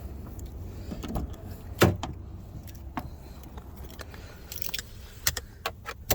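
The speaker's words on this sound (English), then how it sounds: "I'm going to start the car" Car keys jangle close by in the ignition of a car with a wobble, followed by scattered clicks and small mechanical knocks over a low steady background rumble. No clear engine start is heard.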